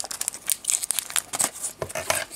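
Scissors cutting open a Pokémon XY6 Emerald Break booster pack, heard as close, crisp crinkling and snipping of the foil wrapper in a steady stream of short rustles.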